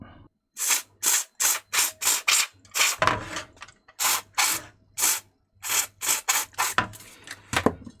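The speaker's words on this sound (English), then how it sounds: "I'm going to give it a spray with some contact cleaner." Short hissing bursts of contact cleaner spray repeat in quick succession onto a faulty Casio PT-100 electronic keyboard, each a sharp puff of aerosol, close and loud with brief gaps between them.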